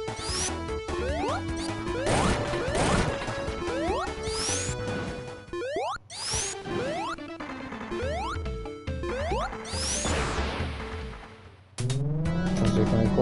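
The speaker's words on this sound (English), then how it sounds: "Then they look like I smashed the bridge." In Sonic 3 and Knuckles, Amy's Piko Piko Hammer smashes a bridge, giving loud crashing and whacking bursts with swooping game effects over energetic music.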